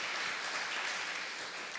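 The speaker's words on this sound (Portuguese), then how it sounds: "Por favor, dê um aplauso ao Senhor" Church congregation applauding during a Christmas sermon, a steady, continuous wash of clapping throughout, moderately distant and without a break.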